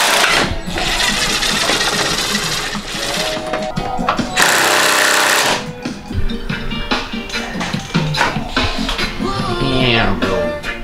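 A power tool rattles loose 12 mm radiator bolts during a radiator change, loud close bursts of rapid hammering broken by short pauses, with a brief steady whir in between.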